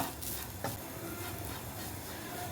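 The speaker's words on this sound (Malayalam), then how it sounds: "നാളികേരം ആദ്യം എണ്ണയൊന്നും ഒഴിക്കേണ്ട, നന്നായിട്ടൊന്ന് വറുത്തെടുക്കണം കേട്ടോ" Grated coconut dry-roasts in a pan without oil while being stirred, giving a faint, soft scraping rustle with one brief louder scrape, heard quietly on its own.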